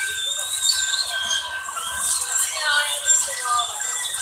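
A military train carrying military vehicles rolls past with high metallic wheel squeals and hissing over a low rumble, voices faintly audible underneath.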